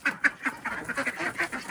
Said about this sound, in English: Come on, duckies, out, off you go.